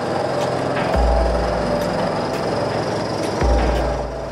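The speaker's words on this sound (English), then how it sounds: "The piles are vibrated into the estuary bed by means of a hydraulic vibratory hammer." A hydraulic vibratory hammer drives steel piles into an estuary bed, making a loud, steady industrial rumble with heavy low thumps and metallic knocks throughout.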